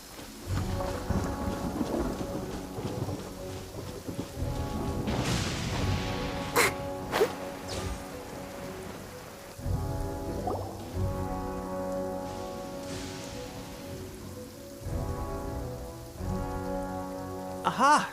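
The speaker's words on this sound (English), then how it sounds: "Don't stay out in the rain for too long." Rain pours steadily in the video game Genshin Impact while deep thunder rumbles and cracks at intervals, layered over game music with tonal notes throughout.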